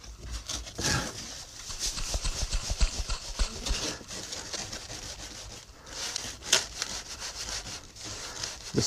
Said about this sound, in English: Force it through the sieve, it breaks up all the lumps.